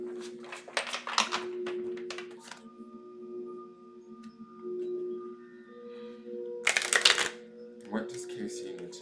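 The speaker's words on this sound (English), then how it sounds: "I'm going to shuffle for Casey Ray and let Heidi respond." Playing cards being shuffled in a few quick riffling bursts, close and crisp, between stretches of quiet room tone with a low steady hum.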